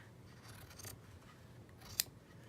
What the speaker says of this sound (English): Let's take these scissors here and just cut